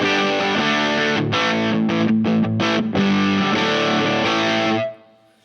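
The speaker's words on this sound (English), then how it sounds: "this is now the OCD setting versus the normal setting" An electric guitar runs through a Mozztronics RTS-1 tone pedal set to its OCD setting, with a driven, distorted tone. A rhythmic strummed phrase with choppy stops rings out loud, then decays to silence at the end.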